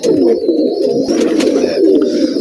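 Teddy pigeons cooing steadily throughout, low rolling coos overlapping in a continuous, close murmur with no talking.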